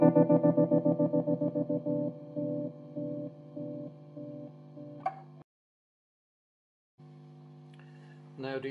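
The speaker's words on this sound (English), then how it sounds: "the envelope follower is controlling the speed of the tremolo" An electric guitar chord pulses with a tremolo whose speed is driven by an envelope follower on a DIY modular effects board, the rate shifting as the notes fade, drenched in effects, then stops before a new chord pulses again.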